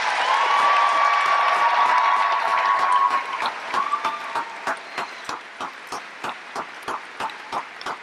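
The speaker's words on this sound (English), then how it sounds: "Can we give a round of applause to our graduates?" Applause from a graduation crowd for graduating seniors, a dense wash of clapping that thins after a few seconds into a single person's slow, rhythmic claps, moderately loud.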